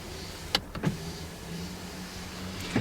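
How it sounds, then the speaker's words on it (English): The rear glass window of a 2023 Ford F150 Lariat Powerboost slides inside the cab, a short powered motor whir with a couple of faint clicks at its start and end, heard up close with no talk. "You can slide that rear glass pretty easily."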